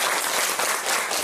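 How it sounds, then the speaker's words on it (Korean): Audience applause for a guest lecturer at a talk: dense, sustained clapping from a room full of people, even and fairly loud throughout. "귀한 시간 내주셔서 감사하다는 뜻으로 큰 박수를 좀 부탁드리겠습니다"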